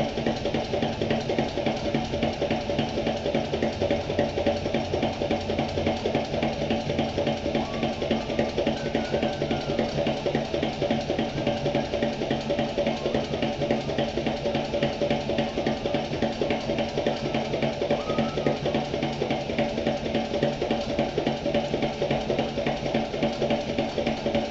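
Sewing machine stitching a shoulder strap for a mail bag, running as a steady, even mechanical whir with a fine rapid pulse that continues unbroken, near and moderately loud, with no one speaking.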